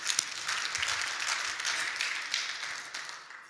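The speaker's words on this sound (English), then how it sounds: "give that guy a big round of applause" A round of applause from a church congregation during a sermon, a dense wash of clapping that swells early and gradually fades toward the end.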